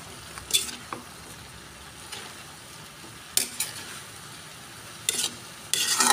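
Bamboo shoots (labong) are stirred in a frying pan, a soft continuous sizzle under scattered scraping and clinking strokes of a utensil against the pan, ending in a louder burst of frying; no talking.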